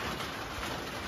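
Steady, soft hiss of rain falling on a surface, continuous and even with no voices.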